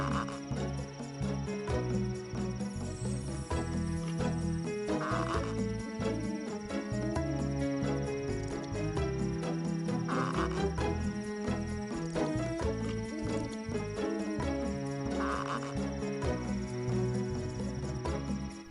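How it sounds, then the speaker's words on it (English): Crickets chirp steadily in the Croc video game, a soft repeating insect trill running under looping background music with periodic tonal accents throughout. "Why don't we just sit here a moment and see if you can hear the crickets?"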